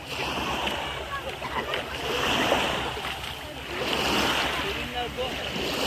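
Surf washing onto an empty beach at Ayvalık in Turkey, a steady close wash of waves rising and falling in two broad swells, with wind buffeting the microphone throughout.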